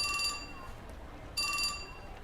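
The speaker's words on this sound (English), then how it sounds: "Just then, Minorikawa's phone chimed." A mobile phone in the video game 428: Shibuya Scramble chimes twice for an incoming email, two short bright electronic tones about a second apart over a faint background.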